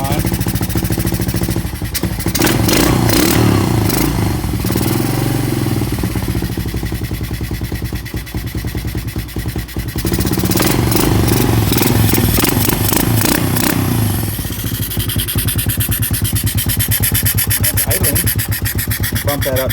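A Honda TRX200SX quad engine running rough with a little throttle held, a loud rattling, clattering idle that dips midway and then swells again, with someone talking over parts of it.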